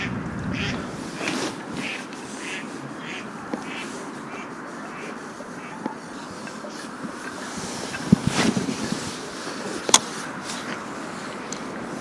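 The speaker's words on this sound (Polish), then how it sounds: "Aż się kaczki z nas śmieją." Ducks quack intermittently in the distance over steady wind and outdoor rumble while fishing, with a few sharper knocks near the end.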